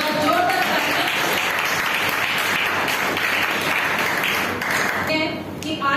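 Audience at a Hindi women's poetry book launch event gives loud, sustained applause filling the room, fading slightly near the end as a voice begins to speak.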